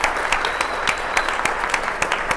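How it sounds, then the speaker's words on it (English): A crowd at a community gathering claps for a hardworking event team, brisk, dense applause with sharp individual claps standing out, sustained evenly through the short stretch without talk. "Let's give them a round of applause for doing a great job."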